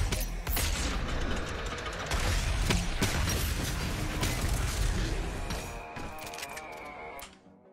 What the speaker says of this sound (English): Now we're going to play along with my wireless keyboard.